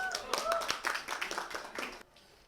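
A classroom of students claps their hands in a short burst of sharp, uneven claps, fading out at the end, with voices talking over it.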